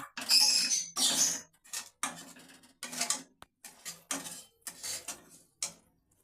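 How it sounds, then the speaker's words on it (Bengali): Ground coriander, cumin and black pepper are stirred and fried with salt in a pan, making short, repeated scraping and clinking strokes separated by brief pauses, close and fairly crisp. "আমি এই মশলাটা দু মিনিট কষিয়ে নেবো"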